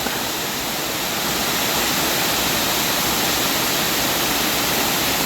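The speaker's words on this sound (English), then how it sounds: "admire this waterfall" DeSoto Falls in Chattahoochee National Forest, North Georgia, roars into a large plunge pool in a constant, loud wash of falling water, steady and unbroken throughout, with no voices.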